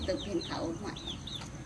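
Chickens cluck briefly in a rural Thai setting, a few short chirpy calls over a soft background murmur.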